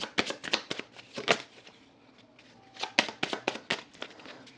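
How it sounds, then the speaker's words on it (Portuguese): Rune cards made of stiff cardstock shuffled by hand in short crisp riffling bursts, a cluster at the start and another toward the end with a quiet pause between, close and fairly soft. "Acho que eu tenho que baralhar de outra forma."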